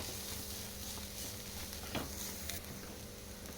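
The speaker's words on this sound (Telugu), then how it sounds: "ఇలా మసాలా అంతా కలిసే వరకు కలుపుకోవాలి" Maggi masala noodles stirred and fried in a pan: a steady sizzle with soft scraping stirs throughout, close and continuous, with no voices.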